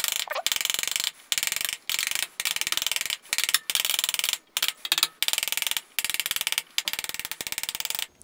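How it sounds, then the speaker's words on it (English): A socket tool works a part out of a KTM 250 SX two-stroke dirt bike during a rebuild, giving a close series of metallic ratcheting clicks broken by short pauses. "I think I'm going to get my other socket and drive it through."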